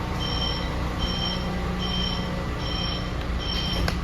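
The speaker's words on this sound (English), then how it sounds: "It's a wonderful doors closing sound." A PATCO Speedline train's doors close with a series of evenly spaced electronic tone pulses about once a second over a steady car hum. A short sharp knock follows near the end, and no one speaks.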